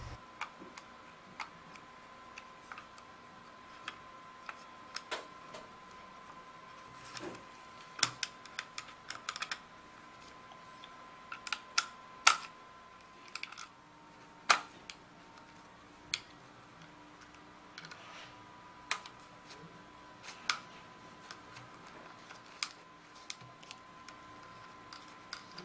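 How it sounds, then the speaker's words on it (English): A screwdriver and an Allen wrench remove screws and hex mounting screws from the ASA of a Tippmann X7 paintball marker, making quiet, sparse clicks and ticks at irregular intervals against near silence. "you remove the four screws with a screwdriver and the two hex mounting screws on the ASA with an Allen wrench"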